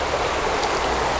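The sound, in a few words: creek water flowing through a forest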